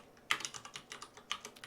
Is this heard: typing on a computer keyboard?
yes